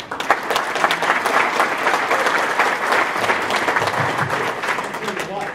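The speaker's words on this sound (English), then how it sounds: "Let's give him a round of applause." A steady, loud round of applause from a large seminar audience at a trade expo, continuous clapping with no pauses throughout.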